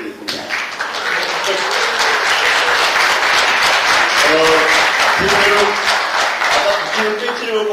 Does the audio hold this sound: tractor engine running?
no